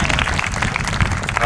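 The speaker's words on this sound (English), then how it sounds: "we can give an applause for all those fine folks." Audience applause at an outdoor summer sunset concert series, a dense, steady wash of many hands clapping throughout with a murmur of voices mixed in.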